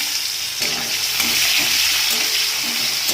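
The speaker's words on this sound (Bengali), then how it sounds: "একটু লাল লাল করে ভেজে তারপরে মশলাটা দেব" Onions, whole cumin and bay leaf fry in hot oil in a pan, giving a loud, continuous sizzle with occasional stirring scrapes and no talking.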